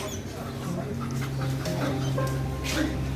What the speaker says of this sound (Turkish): Çok köpek var arkadaşlar.